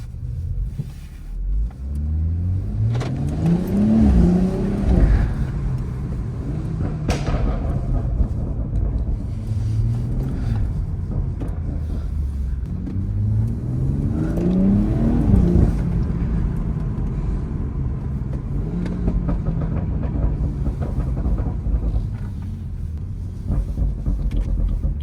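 Modified car driven at night, engine revving through two long accelerations with a steady loud rumble and scattered sharp exhaust pops and bangs on the overrun.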